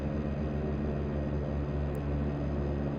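A DHC propeller aircraft engine runs steadily in the FSX flight simulator, a constant loud droning hum with no talking.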